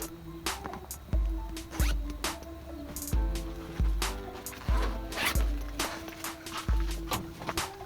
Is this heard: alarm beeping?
no